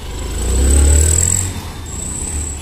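A Hero Impulse motorcycle engine runs after a full service with a low, muffled idle rumble that swells up and then eases back. It is fairly close and heard alone.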